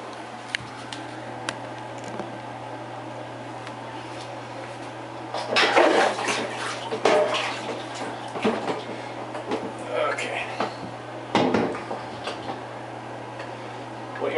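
Homebrew double IPA wort pours into a sterilised plastic fermenting bucket, making bursts of splashing and sloshing liquid close by over a steady low hum, with clinks of handling.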